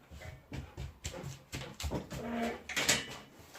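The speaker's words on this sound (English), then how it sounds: "She was barking at the cats." A dog gives a series of short, muffled barks and yelps mixed with high whimpers, close by, with some shuffling and a door-like thud.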